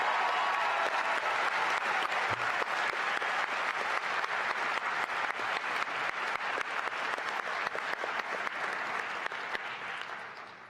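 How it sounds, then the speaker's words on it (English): Graduates receive a long round of applause at a university convocation ceremony, a steady, full crowd of clapping hands that holds at constant loudness for several seconds before tapering slightly at the close. "A round of applause again for our graduates."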